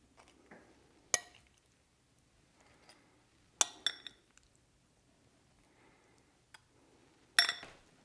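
A spoon clinks against a dish while cherry tomato bruschetta topping with fresh basil and extra virgin olive oil is spooned over toasted bread: a handful of sharp, bright taps scattered across otherwise quiet moments, with no talking.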